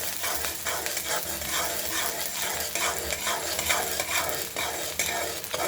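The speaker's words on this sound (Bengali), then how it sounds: "সরিষার তেলের মধ্যে পেঁয়াজগুলো ভাজা হচ্ছে" Chopped onions sizzle in mustard oil while a spoon stirs them round the pan, giving a steady crackling fry broken by repeated scraping strokes, close and with no voices.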